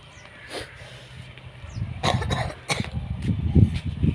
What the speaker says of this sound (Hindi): क्या खांसी हो रही है, गला भी ख़राब है